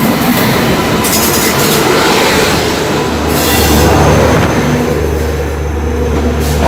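Train 08582, a special express, rolls into a station near Visakhapatnam: a loud, steady rumble of wheels on track with clacking and high squealing wheels, close and continuous throughout.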